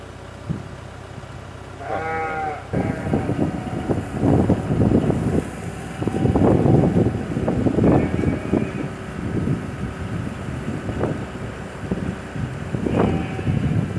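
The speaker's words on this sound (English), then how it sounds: "I guess you can hear the wind whipping" Wind whips across an outdoor farm with lambs, roaring loud gusts and buffeting close up. Several sheep bleats rise through it, and the rushing never stops.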